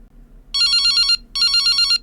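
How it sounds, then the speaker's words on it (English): An old-style telephone bell rings twice in the horror game Sunny Day Jack, with two loud, rapid trilling bursts separated by a short pause over a faint low background hum. "An obnoxious phone."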